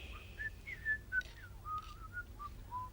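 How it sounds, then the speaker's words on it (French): A curious whistling inside a church: a thin, wavering tone that glides up and down in short phrases, faint and with no voices. "J'entends un sifflement des plus curieux dans mes oreilles"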